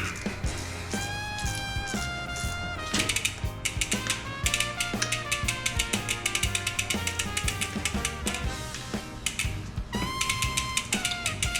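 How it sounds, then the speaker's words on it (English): Torque wrench ratcheting while tightening a mountain bike pedal, a loud, close, steady run of rapid clicking pawl strokes repeating in bursts with brief pauses, with no voices. "you'll have to go backwards on the torque wrench to get them torqued down too."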